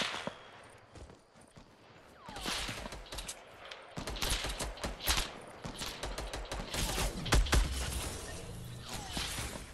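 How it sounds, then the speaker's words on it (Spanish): Fortnite gunfire crackles in repeated volleys of sharp shots from several directions, growing denser and louder after a quieter opening. "Me están disparando desde todos sitios"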